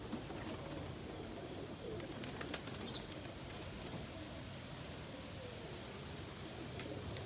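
Pigeons coo softly inside a loft on a cold winter day, with scattered wing flaps and light shuffling sounds over a low, continuous background; no one speaks.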